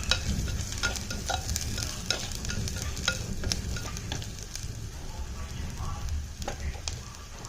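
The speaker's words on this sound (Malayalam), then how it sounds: "ഈ സമയത്ത് നമുക്ക് കുറച്ച് കറിവേപ്പില ഇട്ട് കൊടുക്കട്ടെ കുറച്ച് മതി പിന്നെ കുറച്ച് കഴിഞ്ഞിട്ട് കുറച്ചുകൂടെ ഇട്ട് കൊടുക്കാം ഒന്ന് ഇളക്കി കൊടുക്കാം" Fish masala with curry leaves frying in a pan, stirred steadily: a continuous close sizzle runs throughout, broken by repeated scraping strokes of the spoon, with no talking.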